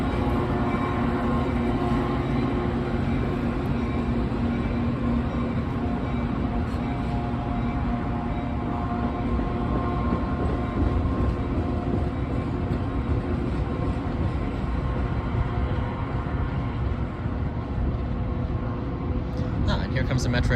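A Metra commuter train pulls in from the yard on a track directly below, near Chicago's Roosevelt Road, a steady loud rumble and mechanical drone running beneath a voice talking.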